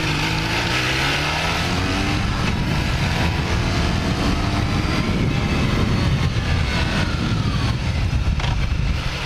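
A 1980 Kawasaki LTD440 motorcycle engine runs steadily and loudly close by on a misty day, with a slight cough or hiccup in its idle, a continuous drone with no talking.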